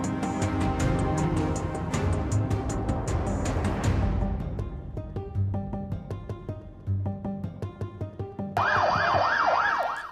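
Ambulance sirens wail along the streets of Lebanon amid chaotic scenes, loud and close, over a dense, rhythmic mix of street and music-like sound, with a sweeping siren tone rising clearly at the end.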